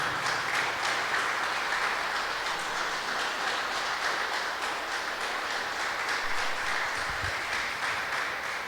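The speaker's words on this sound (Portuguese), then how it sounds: "aplauda ao Senhor enquanto você se assenta" Church congregation applauding during a celebration service, a dense, even wash of many hands clapping that holds steady throughout without voices.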